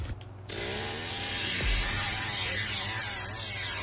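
A chainsaw whines steadily in the Texas Chainsaw Massacre video game, a rough buzzing drone that starts after a brief pause and carries on at moderate level, with no talk over it.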